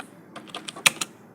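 A handful of crisp keystrokes tap on a computer keyboard while text is entered into AutoCAD, faint and close, ending with two sharper clicks.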